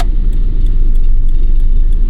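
A 1988 Mazda 323 drives along in traffic, its steady low engine drone and road rumble filling the cabin at close range, with no one talking.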